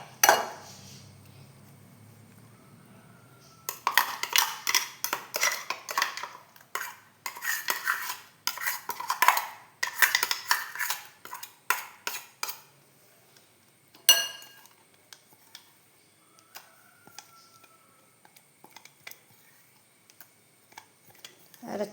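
Ground coconut paste being stirred into cooked pineapple in a pan for pineapple pachadi: a spoon scrapes and clinks against the metal in quick, uneven bursts, close and clear, with short pauses between stirring spells.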